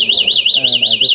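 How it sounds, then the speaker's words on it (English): Anti-theft alarm on a 2023 Emmo Gandan Turbo electric motorcycle, a loud piercing warbling siren rising and falling rapidly, with a voice talking faintly underneath. "if somebody like tries to move this bike, then this bike will like make a kind of alarm"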